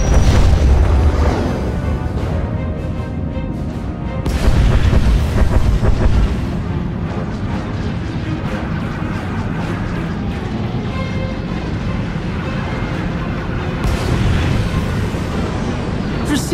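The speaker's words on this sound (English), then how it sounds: "Proceeding with bombardment" Space battle bombardment in Star Wars: The Old Republic, heavy rumbling booms and explosions rolling continuously with loud bursts at the start and again near the middle and end, under a dense wash of low roar.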